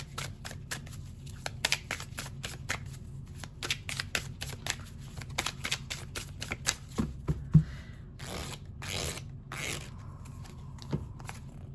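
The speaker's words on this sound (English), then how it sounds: "let's get the other oracle card here" Oracle cards being shuffled by hand, a close run of rapid papery riffles and flicks that comes in repeated bursts, with a few louder slaps near the end and no talking over it.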